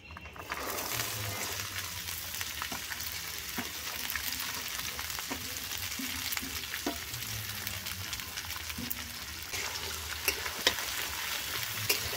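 Carrots and beans fry together in a pan for Christmas fried rice, a constant close sizzle and hiss with occasional stirring scrapes and small pops, heard alone without talk.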